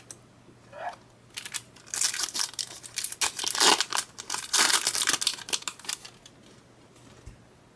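Foil wrapper of a Japanese Pokemon Dragon Blade booster pack ripped open by hand, a run of close, crisp crinkling and tearing bursts with no talk.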